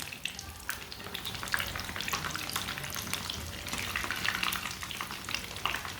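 A cheese sandwich frying in a pan sizzles steadily, with scraping and a soft clatter as it is turned over to cook the other side, close and continuous.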